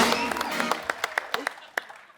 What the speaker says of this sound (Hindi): बड़ी बड़ी तालियां।